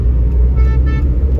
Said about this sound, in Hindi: भाई साहब कितना ट्रैफिक चल रहा है।